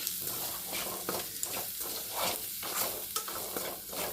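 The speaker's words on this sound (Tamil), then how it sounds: "தேவையான அளவு உப்பு போட்டு இதுவும் நல்லா வதங்கட்டும்" Chili powder and salt go into a pan of sautéing ingredients for a pacha mor kuzhambu side dish, giving a soft, steady sizzle broken by rhythmic scraping strokes of a spoon stirring, close and fairly quiet.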